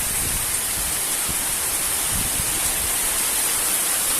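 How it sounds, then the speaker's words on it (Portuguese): Heavy rain pours steadily onto a backyard, a dense, loud, continuous hiss with no pauses and no voices. "Muita chuva"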